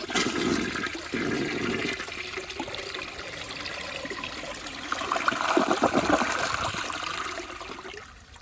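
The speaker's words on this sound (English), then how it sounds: "We just gotta flush out the water line." A 2005 Briggs Altima toilet flushes out its water line with a steady rushing swirl of water, swelling louder midway before draining down, close and alone.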